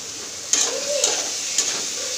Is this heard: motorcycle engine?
no